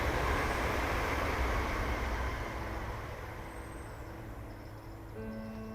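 Train passing nearby outdoors, a loud broad rumble that holds steady then gradually fades as it moves off, with a few faint tonal squeals near the end.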